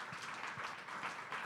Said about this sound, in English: How about another round of applause for our friend Jesse?